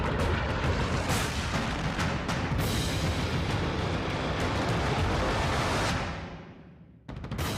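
The Iraqi army blows up a suicide bomber's car in a residential area of Mosul: a loud, sustained blast roar with sharp cracks that fades out near the end, followed by brief clicks.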